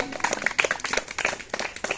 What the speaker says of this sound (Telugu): అందరం చప్పట్లు కొడతాం ఒకసారి.